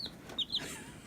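A young Dominique chick in a brooder gives a few faint, quick high peeps within about a second, soft and close with little else around.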